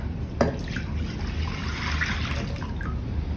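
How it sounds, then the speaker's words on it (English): Milk is poured into pancake batter in a historic kitchen, a steady liquid trickle and splash after a brief clink, fairly close and continuous. "First, we're gonna add 4 cups of milk"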